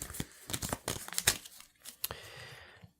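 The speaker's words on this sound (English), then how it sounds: "These cards are going to be shuffled back into the deck" Cards of the board game Ghost Fightin' Treasure Hunters being shuffled into the deck: a quick run of close, crisp riffling and papery flicks lasting a couple of seconds, then fading out.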